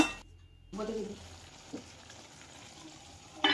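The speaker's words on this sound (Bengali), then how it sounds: "এইভাবে কিছুক্ষণ ধরে নাড়াচাড়া করে মাংসটা সেদ্ধ হওয়ার অপেক্ষা করতে হবে" Chicken kosha cooked without added water, stirred and fried in a pan, giving a soft sizzle with scraping stirs and a brief clink near the end, faint and close.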